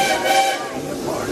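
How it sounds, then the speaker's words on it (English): A steam train on the Walt Disney World Railroad at Magic Kingdom passes with a loud hiss and a whistle-like tone, the rumble and chuff fairly close and strong throughout the short stretch. "I love the chugga chugga of the train."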